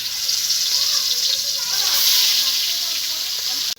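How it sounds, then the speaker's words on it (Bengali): A small piece of fish fries in hot oil in a rural kitchen, giving a loud, steady, bright sizzle that holds throughout and cuts off abruptly at the end. "সেই মাছটাকে আমি ভেজে নিচ্ছি"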